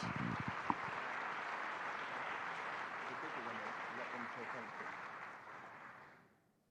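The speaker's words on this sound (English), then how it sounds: "Please join me in applauding Belen Jesuit." Audience applause for Belen Jesuit at an awards stage event, a steady wash of many hands clapping that holds evenly and then fades out near the end.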